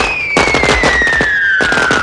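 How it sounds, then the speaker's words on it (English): A rapid string of sharp bangs and crackling bursts goes off in a movie scene from Home Alone 3, with a falling whistle-like tone running beneath the clustered explosions. "setting off a series of explosions"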